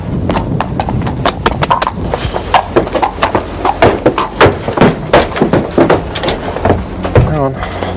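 Horse hooves clip-clopping in a steady, rhythmic series of sharp knocks on a hard surface, close and loud, with a voice speaking underneath.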